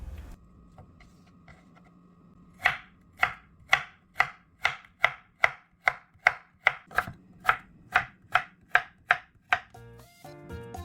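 A knife julienning jicama on a cutting board, about eighteen evenly spaced crisp chops in a steady rhythm, close and distinct over a low background hum, with nobody talking.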